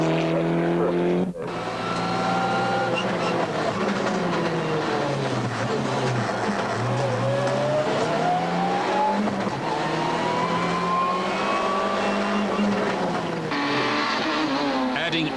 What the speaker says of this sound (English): the Lancer Evo of Raider was impressively quick out of the corners